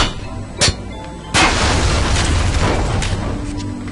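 A shotgun firing buckshot in the Bioshock video game gives a sharp booming blast, then a second heavier blast with a rumbling tail that fades slowly, both loud and close.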